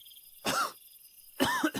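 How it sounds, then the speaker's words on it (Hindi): Two short, close coughs from one person, spaced about a second apart, break through a quiet background of faint insect-like chirring in a horror story setting. "मैंने खांसते हुए"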